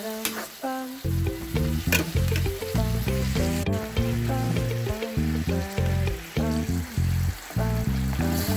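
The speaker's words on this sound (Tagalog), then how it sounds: "Isunod na natin igisa ang hipon." Shrimp sautéing with onion, garlic and tomato in a hot pan, a loud continuous sizzle broken by rhythmic scraping and stirring clatter, close and alone with no voices.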